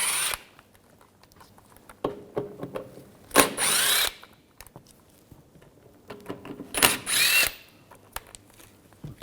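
Power tool spinning out screws with a T30 socket from a panel on a 2011–2018 Volkswagen Jetta TDI wagon, two short loud whirring bursts amid clicks and handling noises, close by.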